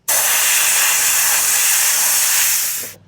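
A spray can blasts orange paint onto an RC buggy body, a bright, loud hiss that starts abruptly, holds steady for nearly three seconds, then tapers off as the nozzle is released.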